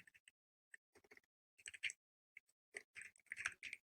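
Short bursts of quick keystrokes on a computer keyboard while a git remote command is entered, crisp close clicks in uneven clusters separated by brief pauses in a quiet room.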